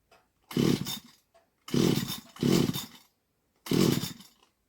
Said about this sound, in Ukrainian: Не заводиться пила.